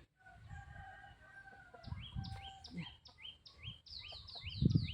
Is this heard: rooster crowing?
yes